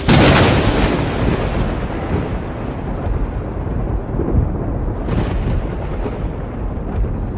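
Thunder from powerful lightning in heavy rain: a sharp loud crack opens into a long, dense rumbling roar that stays heavy and steady, with a second surge of crackle near the end.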